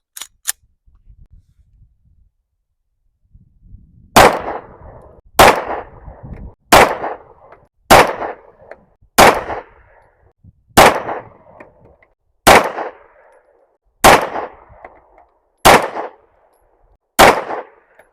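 Rifle shots fired at a range through a Viridian RFX 35 green dot optic: eleven sharp, loud reports at a steady pace of about one every 1.3 seconds, each with a short echoing decay, after a quiet start.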